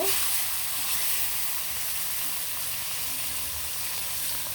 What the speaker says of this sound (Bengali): রুই মাছগুলো লবণ দিয়ে আর হলুদের গুঁড়া দিয়ে মেখে নিলাম আর গরম তেলের গুলা ভেজে নিব